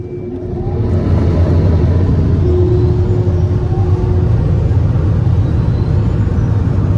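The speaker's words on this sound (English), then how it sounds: "Now the dryer." Dryer blowers roar steadily in a Ryko R7B automatic car wash, a loud, continuous rushing drone that rises within the first second and then holds constant throughout, with no talking.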